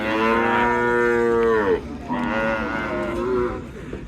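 A cow at a busy Eid cattle market lets out two loud, close, drawn-out moos, the first long and falling, the second after a brief pause, with market noise faint behind.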